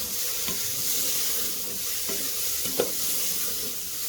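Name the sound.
stirring khichdi with masala in a pan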